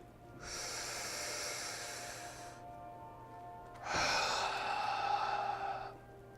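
Deep breathing in a yoga breathing exercise: a long, airy inhale followed by a stronger, forceful exhale, two drawn-out breaths heard close and alone.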